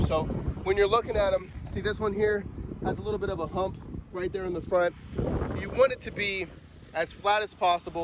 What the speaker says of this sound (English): Sorry about the wind, it's crazy.